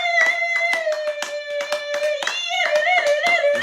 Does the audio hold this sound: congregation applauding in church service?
yes